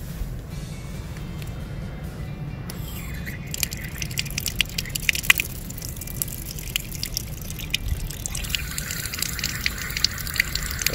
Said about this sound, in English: let's attempt to divert the flow of water from this tap right here.